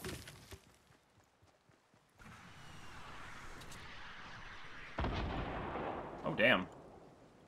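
In Fortnite, a sniper shot booms out with a sharp crack and rumbling tail, set against a steady wash of game noise with a short tonal sound just after.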